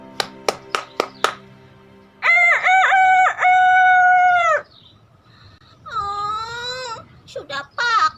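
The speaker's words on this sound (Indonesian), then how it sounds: "saat mendengar ayam jantan berkokok" A rooster crows twice, loud and near, with long drawn-out calls, after a few sharp knocks at the start; another short call follows at the end.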